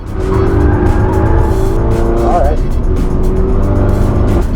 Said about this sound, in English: I immediately fried my brakes and went straight at turn 1